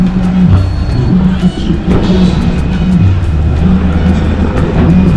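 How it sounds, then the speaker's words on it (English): Heavy car traffic near Maracas Beach in Trinidad, a steady dense drone of idling and slowly moving vehicles, loud and close, with crowd murmur and occasional engine surges throughout. "I have to get out of the car and start to walk. Too much traffic."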